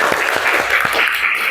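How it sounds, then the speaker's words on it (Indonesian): A classroom of students applauds, a few sharp hand claps standing out over a dense wash of clapping and voices, close and fairly loud. "Tepuk tangan untuk kita semuanya."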